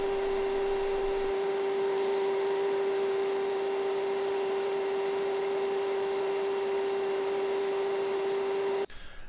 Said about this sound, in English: Next I hopped onto the belt sander and smoothed up those cut marks